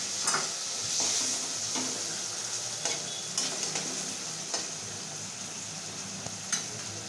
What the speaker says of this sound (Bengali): মা এবার জলটা দিয়ে দিচ্ছে।